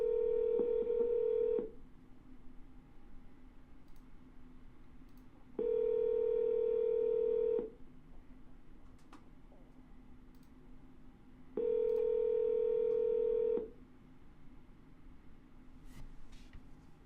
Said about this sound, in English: Let's give it a ring.